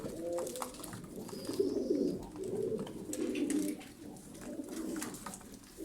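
Pigeons or doves in a giveaway flock coo in repeated low, rounded phrases, rising and falling in steady waves, with faint chirps and scratchy bird activity close by in the background.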